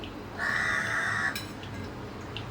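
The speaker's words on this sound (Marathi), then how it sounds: "सो आवाज तुम्हाला येत असेल कावळ्याचा तर प्लीज बेअर करा" A single drawn-out crow caw sounds from outside near a home kitchen, moderately loud over a steady background hiss, then fades to quiet room tone.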